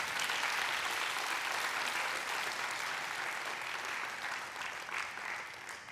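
Sustained applause from a lecture audience at a government ministry talk, a dense steady wash of many hands clapping that holds at an even level for several seconds before easing slightly toward the end.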